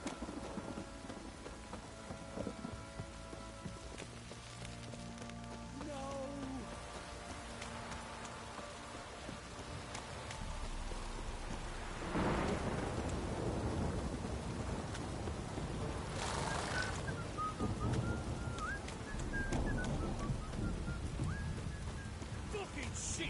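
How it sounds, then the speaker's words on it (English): Steady, heavy rain hisses throughout in the video game The Witcher 3, with low thunder rumbling in the background and swelling louder midway; faint voices and game sounds sit beneath the downpour. "This downpour's a bastard, it is."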